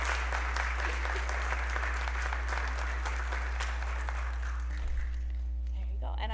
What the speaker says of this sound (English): please join me in giving one more round of applause for our 2022